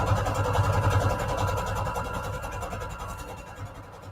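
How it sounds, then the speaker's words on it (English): A sewing machine stitching a straight line through book paper scraps, a steady close mechanical whir with a fast rhythmic needle pulse that slowly fades. "we're going to sew a straight line on the other side of this zigzag stitch"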